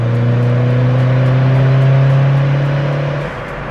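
An Opel Corsa OPC's 250-horsepower engine revs steadily higher with a droning, rising tone, loud and close, then eases off near the end.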